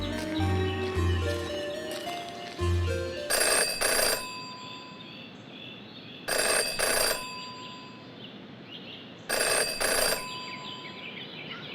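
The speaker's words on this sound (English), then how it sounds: "never to ignore a ringing phone" Telephone ringing in the Jenny LeClue video game: three loud bursts of bright electronic bell rings, each about a second long and evenly spaced, over a soft musical background with no talking.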